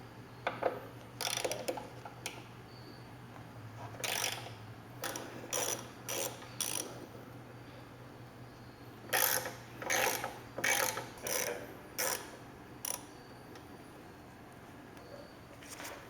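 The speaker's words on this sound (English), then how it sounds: "we're going to unbolt the running board from the assembly itself" A ratchet turns a 5mm hex bit to loosen running board bolts on a GM Yukon/Tahoe, clicking in short bursts with pauses between strokes, close and fairly quiet over a low hum.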